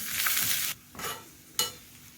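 Cashews and raisins fry in a pan with onions for Thalassery-style rava biryani, a bright close sizzle broken by a few stirring scrapes and short bursts as the pan is worked.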